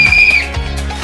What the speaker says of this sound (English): First, I have this whistle.